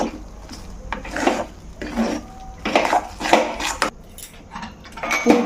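A utensil scrapes and clatters against a pan while a potato filling seasoned with turmeric is stirred, giving repeated uneven strokes at close range with no talking.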